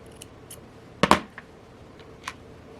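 Scissors snip through the end of a nylon bracelet cord, two sharp close cuts in quick succession with a few lighter clicks and handling noises around them.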